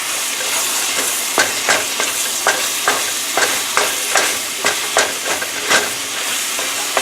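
Seasoned chicken and a halved jalapeno browning in a pan for spicy chicken chili, a steady loud sizzle broken by regular sharp scrapes and taps of a utensil stirring, close and alone with no talk.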